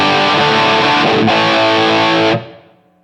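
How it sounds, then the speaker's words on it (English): Electric guitar played through a Line 6 POD GO on a Marshall Plexi-style preset with light room reverb, a loud, mildly distorted strummed chord that rings, is struck again, then is cut off so only a short reverb tail fades. "I've just created a simple preset, I think a Marshall Plexi style with a reverb. And here's the sound."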